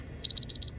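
Solar oven cooking timer alarm sounding four rapid, evenly spaced high beeps, loud and close, alone without any voices.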